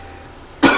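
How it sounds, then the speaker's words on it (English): A single sharp cough bursts out close and loud at the very end, after a moment of quiet room tone. "This cough is killing me."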